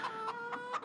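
Chickens cluck in the farming survival game Before The Frost, set in vintage Estonia, with several short close clucks in a quick rhythm over a quiet background.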